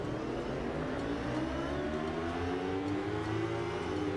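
A motorcycle engine roars steadily with rising, revving pitch in the PS4 racing game Ride 2, loud and continuous, with no talking.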